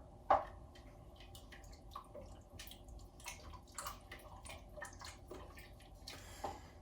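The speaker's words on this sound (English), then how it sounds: "So we've done a lot of stirring." A spoon stirs a pot of NY Italian gravy, making soft wet scraping and sloshing sounds with small irregular clicks against the pot. The sounds are quiet and close, with no talk.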